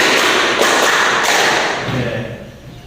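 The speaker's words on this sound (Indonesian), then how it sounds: "Tepuk 1, tepuk 2, tepuk 3, tepuk 4, tepuk 5." Students in a classroom play a rhythmic counting clapping game during a practice teaching lesson; a few sharp claps stand out from dense, steady clatter that fades toward the end.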